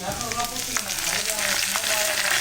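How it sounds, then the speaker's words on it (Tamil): Curry leaves sizzle and crackle in hot oil in a pan while tempering for temple-style Ven Pongal, a steady close frying hiss with small pops and no talking. "இந்த கருவேப்பிலை நல்லா பொரியட்டும்"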